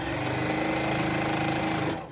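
Sewing machine stitching through thick layers of a pot holder, a fast, steady mechanical whir with rapid needle pulses running close and loud, then slowing and fading at the end.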